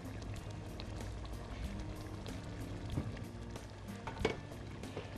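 Panch phoron spices and dried red chillies sizzling in hot mustard oil, a steady, dense frying hiss throughout with a few small pops and crackles rising above it.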